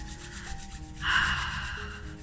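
Two hands briskly rubbed together, a soft continuous friction swish close by that grows louder and brighter midway before easing off, with no talking.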